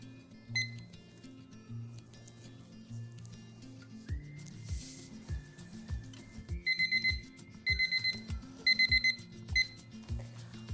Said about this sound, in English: our 14-minute timer just went off